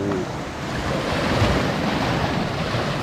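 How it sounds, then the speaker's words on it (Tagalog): Heavy ocean surf roars steadily and loudly, a continuous wash of breaking waves with wind buffeting the microphone. "malaki ang alon"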